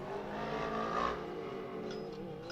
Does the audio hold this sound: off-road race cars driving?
yes